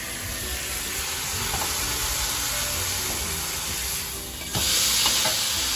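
Carp frying in fish sauce in a hot pan, a steady close sizzle and hiss running throughout, briefly dipping then flaring louder near the end.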